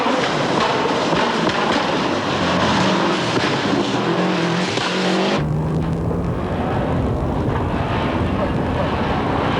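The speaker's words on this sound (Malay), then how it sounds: "Inilah kereta yang dipandu oleh Richard Burns" Rally car engine roaring during a stage of the 1994 Petronas Rally of Malaysia, a loud continuous mechanical drone with a sharp change in tone midway as the car passes or the shot cuts, under a busy background.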